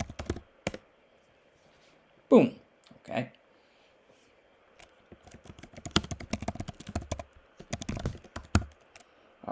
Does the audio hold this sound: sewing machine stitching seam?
no